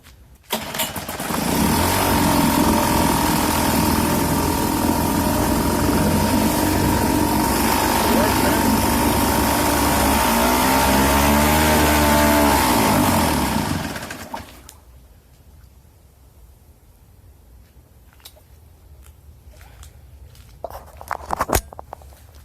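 A vintage 1971 Sears ESKA 5hp outboard motor roars steadily and loudly for about thirteen seconds, its pitch briefly wavering, then cuts out abruptly, leaving quiet background with a few faint knocks.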